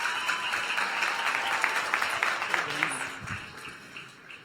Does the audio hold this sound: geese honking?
no